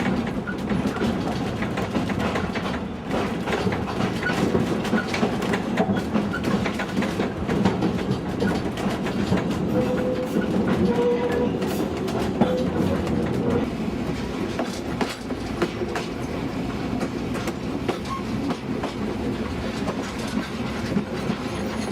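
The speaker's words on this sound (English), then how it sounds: "I'm just setting up to record the interior of the carriage." Inside a vintage wooden railway carriage hauled by a diesel locomotive on a short heritage line, a steady loud rumble of rolling wheels with rhythmic clickety-clack over rail joints and occasional faint squeals runs continuously, with no voices.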